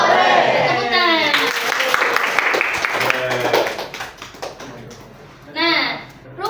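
Hand claps in time with a children's sing-along, sharp repeated taps mixed with singing voices, moderately loud and close, fading toward the end.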